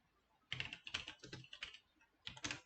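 Several short runs of clicking keystrokes on a computer keyboard, close and clear, separated by brief pauses.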